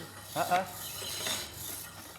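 Hand tool rubbed slowly across stone in a stone-carving workshop in Agra, India, giving a soft continuous rasping scrape with a couple of stronger strokes early on, close and fairly quiet.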